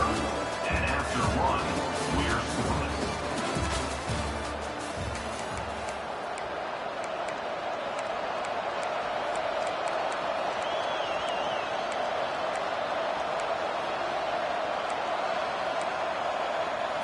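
A college football stadium crowd at BYU vs Mizzou roars loudly, with cheering and clattering noise at first, then settling into a sustained broad wash of crowd noise.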